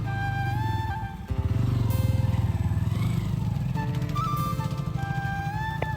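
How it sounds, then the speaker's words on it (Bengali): A motorbike rides across river sand beside the Subarnarekha River, its engine chugging steadily up close with a rhythmic throb, briefly dipping before pulling on, while faint tonal sounds drift in the background. "এখন বালিতে বাইক চালাচ্ছে"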